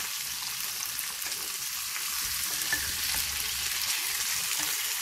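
Continuous loud sizzle of chicken thighs frying in oil with garlic and shallots, a bright crackling hiss with occasional stirring, close by and without talking.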